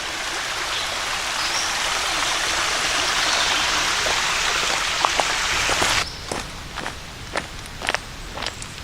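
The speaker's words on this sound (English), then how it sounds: "Little tiny waterfalls." Steady broadband rush of running water from a small stream with little falls on the Mason-Dixon Trail, continuous for most of the clip, then a softer patter with scattered splashes or steps.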